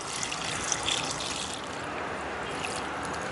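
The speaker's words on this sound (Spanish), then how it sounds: "lo que voy a hacer es aplicar agua" Water pours into a metal container filled with rabbit manure, a continuous close splashing gush that settles into a steadier trickling fill.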